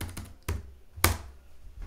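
Keys struck on a computer keyboard while entering a Linux terminal command on a Chromebook: a few sharp, separate taps spaced out over two seconds, close and fairly quiet, with no talk.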